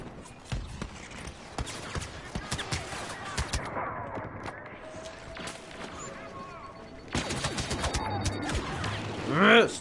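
Turret blasts in a Star Wars Death Star video game, rapid bursts of sharp laser-like shots crackling repeatedly against ambient game noise, fairly faint, with a louder flurry at the end.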